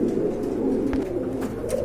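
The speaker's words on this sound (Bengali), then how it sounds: "এখানে দেখতে পাচ্ছেন আরেক জোড়া কবুতর" Pigeons coo steadily at close range in a continuous low burbling murmur, with a few faint clicks over it and no speech.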